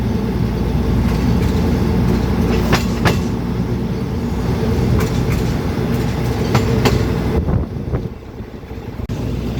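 The Royal Blossom train at Bangkok station rolls along with a loud, continuous rumble and repeated clickety-clack of wheels over rail joints, dropping slightly in level near the end.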